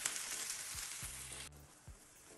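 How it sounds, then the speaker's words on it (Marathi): Onion sautés in a pan with a quiet, hissy sizzle that drops away sharply partway through. A few low thuds and a faint hum sit underneath, and no one speaks. "कांदा मी छान परतवणार"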